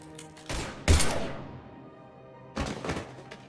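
Gunfire in the video game Mass Effect 3: three loud, close, percussive blasts, two in quick succession and a third after a pause, each trailing off, with no talk over them.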